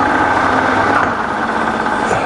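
A Bridgeport belt-drive milling machine motor runs quietly in its slower speed range, a steady close hum and whir with no voices over it.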